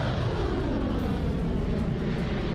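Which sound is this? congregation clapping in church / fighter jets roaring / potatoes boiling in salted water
fighter jets roaring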